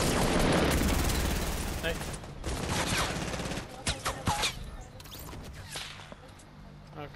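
Gunfire in the video game Fortnite: dense bursts of rapid shots and impacts fill the stretch, loud and continuous, with players talking briefly over it.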